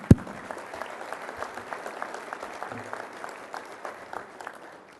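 A small banquet audience honoring Rotary members claps in a light, sparse patter, with individual claps distinct after one sharp bang at the start and a quiet room behind.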